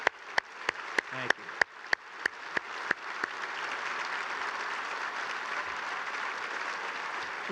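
Applause for awards finalists in a banquet hall: several sharp, close claps in a quick rhythm at first, then a broad, sustained wash of crowd clapping that holds to the end.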